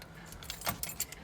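Keys jangle in a few quick, bright bursts while someone hunts for the right key to a 1978 VW Westfalia camper van; close by, with no talking.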